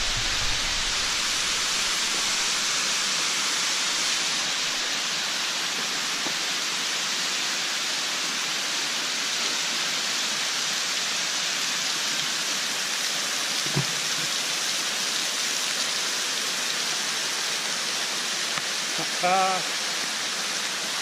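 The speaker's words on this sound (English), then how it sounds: "This side of the waterfall is just getting started." Waterfall in Waterfall Canyon near Ogden, Utah, a steady broadband rush of falling water close by that stays constant throughout, with a couple of brief faint knocks.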